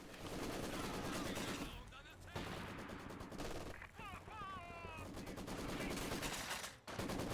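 Rattling bursts of machine gun fire in the Company of Heroes 2 strategy game, an MG position cutting down an advancing infantry squad, with sustained rapid shots and a few short gaps under and between continuous commentary.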